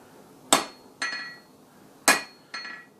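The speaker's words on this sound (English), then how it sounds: "I'm going to go ahead and rotate it 45 degrees and just kind of hit off the edge." Hammer blows ringing on hot steel at the edge of an anvil while forging a metal leaf; four sharp, bright strikes in two pairs, each with a short metallic ring, close and alone without talk.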